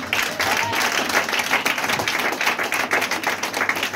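Church congregation applauding together during a service, a dense, steady wash of many hands clapping at close range with no talk over it.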